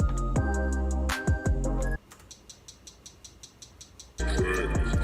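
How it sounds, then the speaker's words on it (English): Hi-hat sample built from recorded ice cracking, tapping out a steady ticking rhythm alone in the middle, with a fuller beat playing before and after. "I made that into a hi-hat, and the hi-hat sounds like this."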